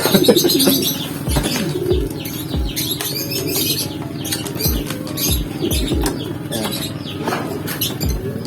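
Pigeons kept by a fancier coo softly and repeatedly while wings flap in several short bursts nearby, a busy, close flock sound with no talking.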